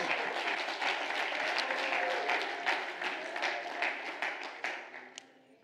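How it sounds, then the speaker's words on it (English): Congregation clapping hands during Sunday church worship, a dense crowd of applause with sharp individual claps, loud and sustained before fading out at the end. "clap your hands and praise him this morning"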